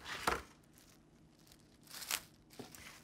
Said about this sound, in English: So wrap it in some plastic wrap.